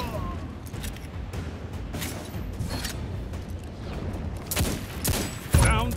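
Repeated heavy gunshots from the Old Fashioned hand cannon in Destiny 2, spaced irregularly over steady background noise, with a louder blast near the end.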